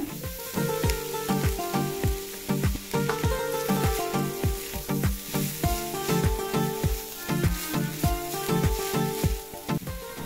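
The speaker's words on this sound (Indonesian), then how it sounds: "Selanjutnya masukkan wortelnya dan ayam yang sudah dicincang." Carrots and minced chicken sizzle loudly in a pan with sautéed onion for a potato croquette filling, a constant crackling fry punctuated by regular scraping strokes of stirring.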